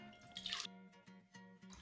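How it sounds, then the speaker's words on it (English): Water pouring from a Brita filter pitcher into a container for a homemade matcha drink, a short splashy trickle with a brighter burst near the start, then faint dripping and background hum. "I'm just gonna fill it up with water using my Brita"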